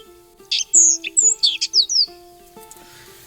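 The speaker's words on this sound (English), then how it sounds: "I think it's a Sabota lark." A Sabota lark sings in a South African extinct volcano crater, a quick series of sharp, varied chirps and whistles, clear and close, over a faint steady background hum.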